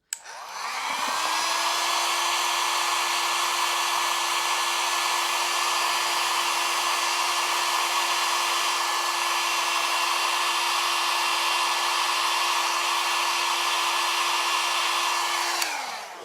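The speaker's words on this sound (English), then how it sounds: "Now I'm gonna blow dry them straight up because that gives it just a little extra lift." A handheld hair dryer blows steadily on mascara- and fiber-gel-coated eyelashes, a loud, even whir that spins up quickly, holds constant for about fifteen seconds, then winds down.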